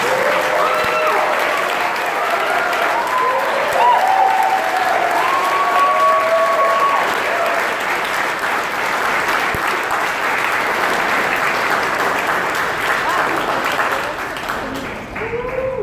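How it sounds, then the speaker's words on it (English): Large audience applauding at a pitch competition's semi-final announcements, a loud sustained wash of clapping that runs unbroken for about fifteen seconds and tapers slightly at the end, with faint voices mixed in. "Let's give it a round of applause for everybody."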